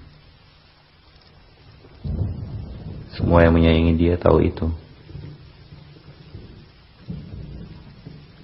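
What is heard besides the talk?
drizzle rain with thunder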